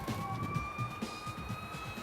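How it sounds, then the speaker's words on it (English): A city street siren wails steadily in the distance, a sustained rising tone that sits over low traffic rumble and irregular background thumps. "Listen to the siren."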